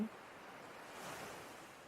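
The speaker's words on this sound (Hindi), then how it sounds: "लहरों का पैरों पर आना और फिर लौट जाना" Ocean waves washing in over bare feet on a beach, then drawing back: a soft, faint, continuous hiss of shallow surf with a gentle swell in the middle, no voices.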